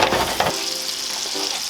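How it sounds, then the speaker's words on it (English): Mushrooms frying in a light brown butter sauce give a steady, fairly loud sizzle throughout, with a brief stirring scrape near the start. "I'm frying the mushrooms."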